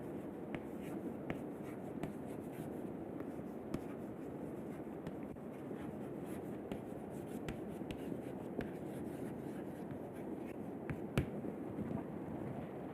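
Chalk or marker drawing a graph on a lecture board gives a steady scratching, tapping stroke sound with small clicks, close and continuous throughout, with no talk.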